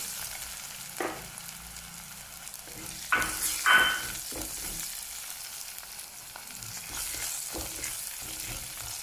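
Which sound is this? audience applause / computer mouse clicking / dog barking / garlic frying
garlic frying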